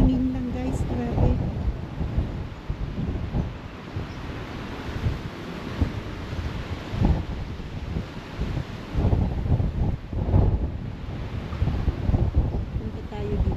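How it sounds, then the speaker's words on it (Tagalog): Strong gusts of wind buffet the microphone in a park, a steady low roar with louder bursts throughout, while a person talks over it at intervals. "ngayon hindi na, mahangin lang guys, grabe."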